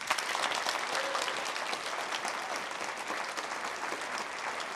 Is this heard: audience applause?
yes